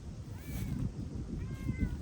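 A cat meows faintly a couple of times, thin rising cries over a low rumbling outdoor background.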